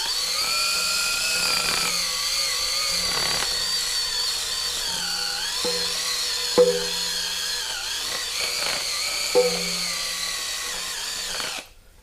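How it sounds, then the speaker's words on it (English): A rotary tool fitted with a rubber eraser wheel whines steadily and close while cleaning a Ferrari F430 three-piece wheel, its pitch dipping under load with a few sharp contact scrapes before it cuts off. "So first thing I'm going to try is a rubber eraser wheel"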